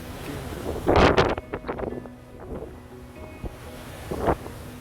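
Strong wind buffets the microphone in heavy gusts on a ship, with a rough roar of sea in the background.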